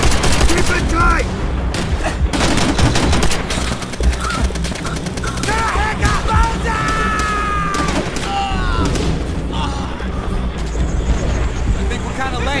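Dense World War II-style battle gunfire from Call of Duty: World at War, with machine guns firing from bunkers amid constant rattling bursts and booms, loud and continuous under shouted voices.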